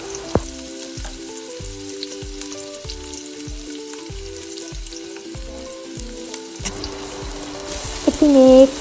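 Pasta ingredients stirred and fried in hot oil, with regular scraping strokes of a spoon against the pan over a soft sizzle, and a louder burst of frying near the end.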